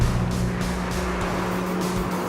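Black 2012 BMW 1M Coupe driving: a steady engine hum and road roar heard from inside or close by, with a constant low drone and faint tire rumble, and no talking.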